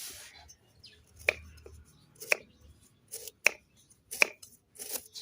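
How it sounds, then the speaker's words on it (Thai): A knife chops through lemongrass on a board in four or five sharp, evenly spaced strikes, close by and otherwise quiet. "เราหั่นเลยครับ"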